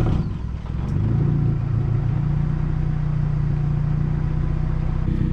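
A Honda Civic EF with a new exhaust drives along, its engine droning steadily and loudly from inside the car, with a brief rise in revs near the start.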